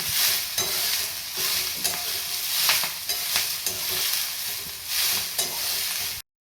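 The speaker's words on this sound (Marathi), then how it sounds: "ही चिरलेली भाजी आहे ती त्याच्यात आपण थोडी परतून घेऊया." Finely chopped wild greens (chigalchi, barik gholachi bhaji) are tossed with sautéed onion in a pan, a dense sizzle pulsing with repeated stirring strokes and spatula scrapes, close and unaccompanied by speech.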